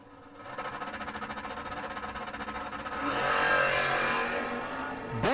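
Drag race cars, a 1968 Corvette roadster and a Plymouth Duster, accelerate down the strip with a buzzing engine drone that swells louder and rises in pitch, then ends abruptly.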